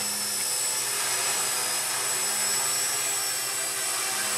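A Walkera QR X800 drone with a gimbal camera hovers in flight, giving a steady, continuous high-pitched whine of spinning rotors. The buzz is moderately close and even throughout, with no talking.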